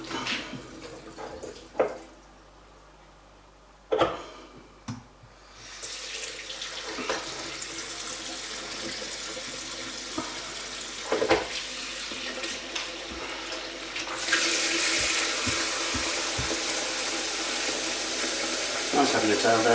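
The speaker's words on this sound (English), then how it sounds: "I'm going to drop this cold water out" Cold water drains out of a photographic film-developing tank into a sink with a continuous splashing rush and a few sharp knocks and clanks, then the flow grows louder and brighter near the end.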